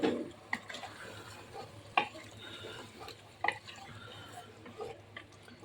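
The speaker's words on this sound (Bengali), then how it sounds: "এখন আমি এই কষানো মাংসগুলো" Spiced beef pieces, cooked down with masala, go into a pan being prepared with fried potatoes, giving soft stirring scrapes and a few sharp clinks over a low simmer, with no talk.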